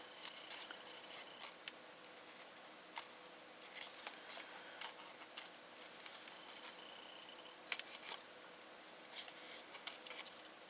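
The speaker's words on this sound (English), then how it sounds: "Now to cut this, I'm going to cut it into a point." Scissors snip through paper card while cutting it into a point, a series of faint, close, crisp clips spaced irregularly over a quiet background.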